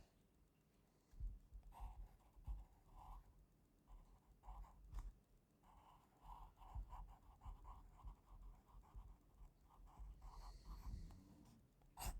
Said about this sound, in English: So I'm going to write his name.